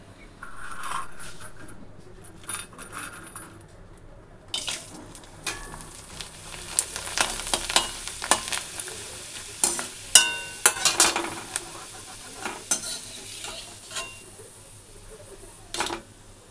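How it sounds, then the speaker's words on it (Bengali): Spices hitting hot oil to temper dal in a home kitchen: crackling sizzle bursts and spiky clinks of stirring, with no talking. "তো চলো ডালটা ফোড়ন দিয়ে নিই।"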